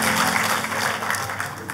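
A congregation claps during a church service, a dense, steady burst of applause filling the room for a couple of seconds.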